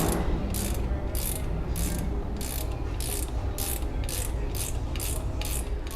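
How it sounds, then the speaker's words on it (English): A special puller tool extracts the factory needle bearing from a 2016-2023 Toyota Tacoma part, giving a steady mechanical grinding under repeated ratcheting clicks that come in an even rhythm, close and continuous, with no talk. "So what we're going to do now is going to use that and pull out the bearing."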